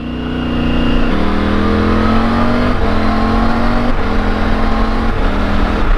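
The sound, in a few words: Triumph Tiger 900 GT motorcycle accelerating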